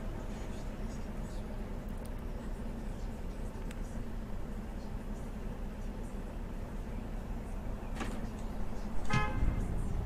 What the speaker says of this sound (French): Oh bah je me fais klaxonner en plus.